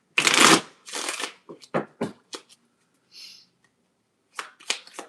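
Tarot cards shuffled in quick bursts of crisp riffling and soft slaps, separated by short pauses, close and clear with no talk.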